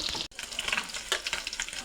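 Fish fries in hot oil in a wok, giving a steady bright sizzle throughout with a brief dropout near the start, no voices present.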